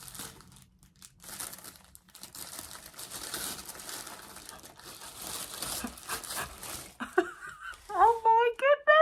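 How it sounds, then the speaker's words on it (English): Yellow wrapping paper on a gift box crinkles and rustles close by in busy, continuous bursts, and a voice speaks briefly near the end. "So this is the gorgeous box in its lovely yellow wrapping paper."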